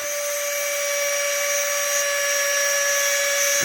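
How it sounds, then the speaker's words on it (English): A rotary tool spins a diamond burr as it plunges into material, giving a steady high-pitched whine with strong tonal overtones that holds unbroken and close, with no speech. "This is a diamond burr, and if we plunge in, has more resistance"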